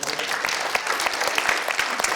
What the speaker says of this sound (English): An applause for you.